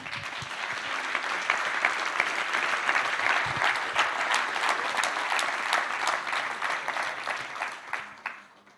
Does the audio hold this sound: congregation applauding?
yes